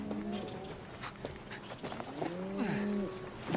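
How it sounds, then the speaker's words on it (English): Cows on open range low in a few overlapping moos, faint and somewhat distant, over a steady outdoor background with occasional knocks and shuffling steps. "are cows, and plenty of them"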